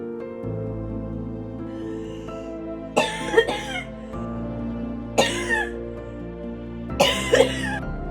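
Three bursts of coughing from a cancer patient with swollen lymph nodes, each a short cluster of harsh coughs, spaced a couple of seconds apart over a steady low background hum.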